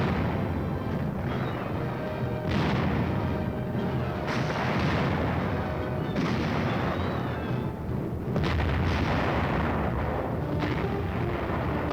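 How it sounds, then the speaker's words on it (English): Tank gun firing during a UN offensive in the Korean War, heavy booming blasts in a dense, rumbling battle din with several distinct thuds spaced across the stretch. "A tank adds its lethal punch."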